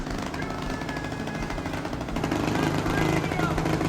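Idling supercharged engine of a small mini trophy truck, a close, steady rapid chugging rattle that swells slightly louder midway, with talking underneath.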